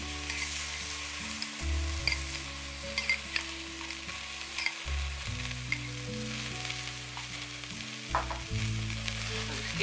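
Rhubarb mixed with sugar and cornflour paste is stirred in a pan, giving a steady sizzle and scraping over continuous tonal background music, with no talking.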